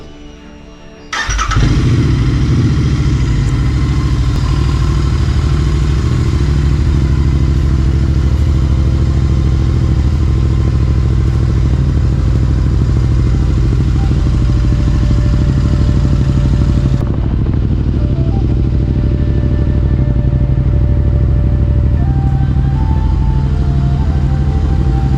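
Royal Enfield GT 650 motorcycle engine starting up and running loudly close by for a long stretch, steady throbbing exhaust note with a change in tone partway through as the bike rides off.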